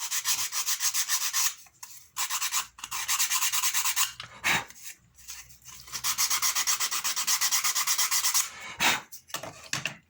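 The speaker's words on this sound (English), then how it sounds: "just a bit of sand just to take that edge off" Abrasive hand sanding over the sharp edge of a metal flange, a close rhythmic rasping in several long strokes with short pauses between them, no talk.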